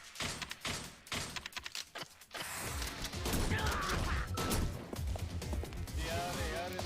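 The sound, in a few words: shotgun firing in the video game Yakuza Kiwami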